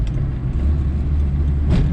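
A 1976 Volkswagen Passat TS with its 1.6 engine running steadily, a close, continuous low rumble that holds even for about two seconds, with a brief lift near the end.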